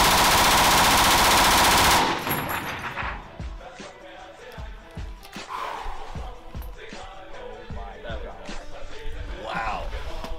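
A German World War II machine gun fires a loud, sustained two-second burst of rapid automatic fire, followed by excited whoops and yelling from nearby people.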